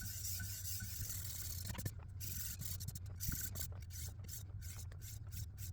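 Zwilling Kramer Damascus chef's knife scrubbed on a high-grit silver CBN stone, a steady close rasping rub with quick repeated strokes and faint clicks, continuous and without talk.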